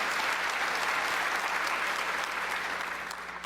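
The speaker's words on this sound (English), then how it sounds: "Can we please have a huge round of applause for those engineers?" Applause from a large audience at a Microsoft Azure developer keynote, a steady, dense wash of clapping that holds for several seconds and begins to fade at the end.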